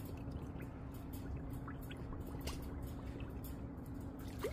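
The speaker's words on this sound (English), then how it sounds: "fill it up with water, as you can see here." Water runs steadily from a hose or tap into a bucket for washing a 2016 Mercedes-Benz AMG E63s, a continuous low gushing with faint splashes and drips throughout and no voices.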